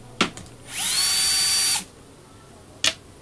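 A power drill removes a screw from an 11 kg Bosch GSH 11 E demolition hammer with one sharp, high whine of about a second that rises as it spins up. Short clicks come before and after it.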